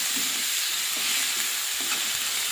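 Spice masala with chilli and turmeric powder frying over onions in hot oil, a steady close sizzle with soft stirring scrapes throughout, no voices.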